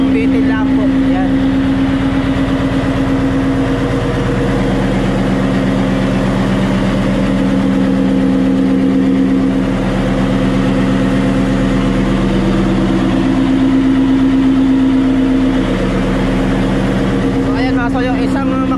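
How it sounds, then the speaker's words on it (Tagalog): A boat runs on only one of its engines at idle, holding a loud, steady low drone with a constant tonal hum throughout, while someone talks over it. "So yung isang makina lang po yung naka-andar ngayon."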